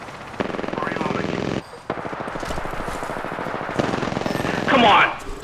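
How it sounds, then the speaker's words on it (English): Automatic gunfire in Apex Legends during a team match, sustained rapid bursts that stop briefly and then resume, with voices talking over much of the shooting. "Taking fire."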